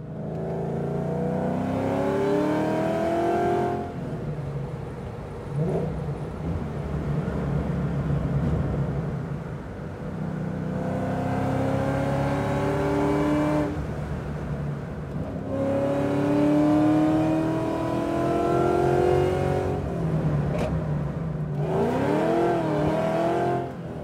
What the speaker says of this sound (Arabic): استانس بصوت الاكزوز مال سيارتي